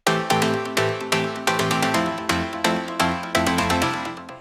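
An EDM chord progression with doubled notes plays on a bright synth in loud, sharply attacked stabs that repeat rhythmically and decay between hits, with no voices.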